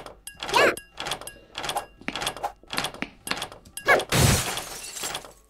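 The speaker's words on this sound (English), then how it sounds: "We can break the glass." Glass shatters in the video game School of Insanity, a loud crash with a spray of shards after a series of sharp thuds and knocks.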